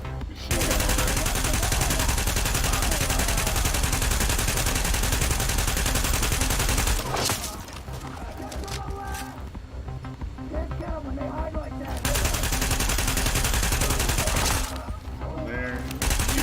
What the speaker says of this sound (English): I have a lightweight machine gun already.